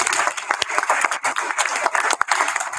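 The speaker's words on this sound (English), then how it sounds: "Let's give a round of applause for our Gianna Fernandez, Janae Legrand, Zac" An audience at a school board of education meeting claps, a dense, irregular patter of many hands applauding continuously at moderate volume.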